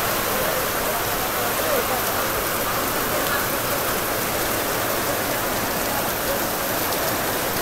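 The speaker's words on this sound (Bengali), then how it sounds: "প্রচন্ড পরিমাণের বৃষ্টি নামছে, প্রচন্ড পরিমাণের।" Heavy rain pours down near shops in Madaripur, a dense, constant hiss of water striking surfaces and a leaky roof, loud and unbroken throughout with no gaps.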